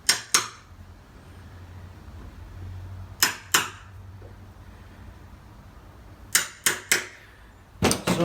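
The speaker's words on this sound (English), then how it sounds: "take my 1/2 inch chisel and just mark the corner so it cleans up after" A 1/2 inch chisel tapped in to mark the corner of a door hinge mortise, giving sharp close knocks in pairs and short clusters separated by quiet pauses.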